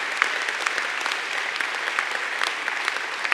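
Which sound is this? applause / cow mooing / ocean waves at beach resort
applause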